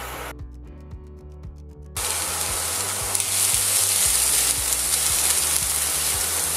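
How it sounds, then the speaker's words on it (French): Mango pieces caramelizing in a little oil in a pan for mango ginger chutney, bursting into a loud, bright hiss after two seconds and sizzling steadily up close, with a low rhythmic mechanical hum beneath. "Personnellement, j'aime bien caraméliser avec un peu d'huile."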